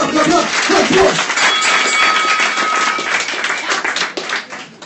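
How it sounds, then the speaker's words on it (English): A crowd at a comedy roast tournament semi-final claps steadily and loudly for a few seconds, a dense wash of hands with voices mixed in underneath. "Clap it up, clap it up, clap it up."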